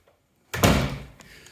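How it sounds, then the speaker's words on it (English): A detailing workshop door swings shut with a solid, close thud at about half a second, followed by a short decaying rattle and a faint knock, with no talking. "Let's close the door."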